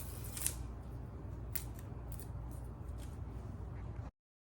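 A kitchen knife dicing strong onions on a cutting board, with a few crisp chopping strikes scattered over a steady low background hum, fairly close and without talk.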